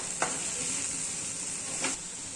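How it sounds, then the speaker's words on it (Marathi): Garlic sautéing with browned onions in a pan gives a steady, close frying hiss, with two brief scrape-like stirring accents against the constant sizzle. "लसूण टाकल्यानंतर 2 मिनिट लसूण कांद्यामध्ये परतून घ्यायचा"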